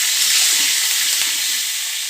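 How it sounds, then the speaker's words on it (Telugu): A tempering of urad dal, asafoetida and spices fries in hot oil for a cucumber dal, a loud, dense, continuous sizzle close by with no break. "వేసుకుని తాలింపు వేసుకోవాలి."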